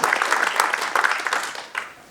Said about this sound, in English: I would like, if you accept, to applaud Tommy, who was really the one who did everything